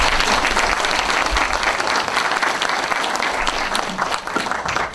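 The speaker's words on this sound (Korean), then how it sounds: "박수가 좀 필요한 대목인 것 같습니다" Sustained audience applause fills a book concert hall in Jeonju, dense and steady clapping throughout, close and loud, with no speech over it.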